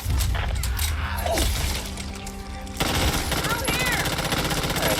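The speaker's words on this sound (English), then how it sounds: "Assault rifle." An assault rifle fires in the co-op zombie shooter Back 4 Blood, rapid loud bursts of automatic gunfire with a brief pause before a second sustained volley.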